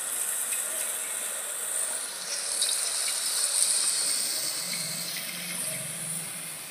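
Boondi batter drops fry in hot oil for bundia, a dense, continuous bright hissing sizzle that holds steady with slight swells throughout.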